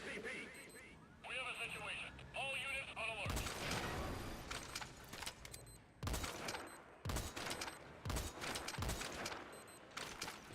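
Cannon fire in Metal Gear Solid V: after a stretch of game tones and beeps, a series of loud, sharp booming shots lands at uneven intervals, each ringing briefly, with a voice talking over parts.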